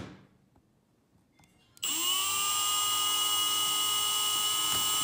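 A power drill drives the first screw through a folding night table shelf into a wall stud, starting abruptly after a quiet moment and whining steadily and loudly close by until the end.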